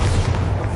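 A single short, heavy boom from the Bombarda blasting spell exploding in Hogwarts Legacy, a loud thud that fills the brief moment.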